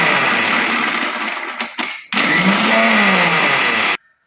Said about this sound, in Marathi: थोडीशी कोथिंबीर आणि जिरं हे मिक्सरमधून आपण वाटून घेणार घेणार आहोत